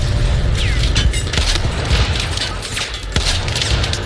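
Battlefield 4 combat with dense, loud booming blasts and crackling gunfire layered over a constant rumble, several sharp impacts standing out through the noisy battlefield mix.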